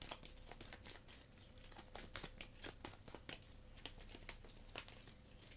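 Playing cards being shuffled for a tabletop card game, a faint, close-up run of irregular riffling clicks and soft crinkly flutters.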